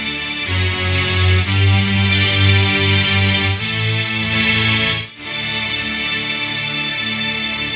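A Stratocaster electric guitar plays through an Electro Harmonix MEL9 orchestral tape replay pedal, giving loud sustained chords with a lush, string-like orchestral wash that shift every second or so and dip briefly near the end, with no voices.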